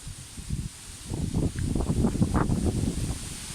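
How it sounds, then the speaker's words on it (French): Strong wind buffets the microphone in an outdoor prehistory garden, a continuous rough rumbling hiss with gusty surges, close and loud throughout. "Là aujourd'hui il y a beaucoup de vent, je ne sais pas si vous m'entendez beaucoup."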